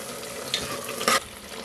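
Mutton being stirred in a pan with ginger-garlic paste, salt and turmeric, a soft continuous sizzle with scraping spoon strokes and one brief louder clatter near the end.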